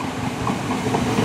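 A train passing through Hassocks Station, a steady close rumble with rhythmic rail clatter and hiss running continuously throughout.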